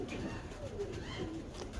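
A purebred Habshi-blood breeder pigeon with orange eyes coos softly at close range, a short run of low, throaty coos over faint background noise.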